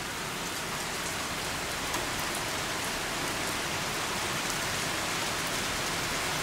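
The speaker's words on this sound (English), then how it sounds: "It's pouring down rain." Heavy rain pours down steadily outside a house, a dense unbroken hiss of drops drumming on surfaces, loud and constant with no voices.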